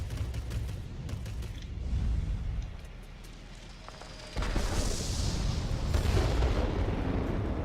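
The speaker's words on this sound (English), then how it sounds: "drop another bomb on this plant" Bombs bursting in the World of Warplanes flight game during a Tier X German Messerschmitt Me P.1102 B attack aircraft run on a ground plant: a continuous rumbling roar of explosions, swelling louder in the second half, with no talk.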